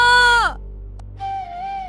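A boy's cry rings out at midnight in an animated Hindi story. It is a brief, high, tonal shout that falls off within half a second, followed by a quieter sustained tone.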